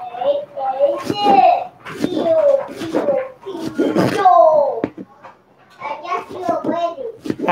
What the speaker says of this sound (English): y'all can hear the kids playing